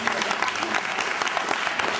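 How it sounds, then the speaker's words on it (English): A lively audience at an interview event gives a loud round of applause, close and dense clapping with a few sharp individual claps standing out, faint voices mixed in. "All right, give a round of applause one more time."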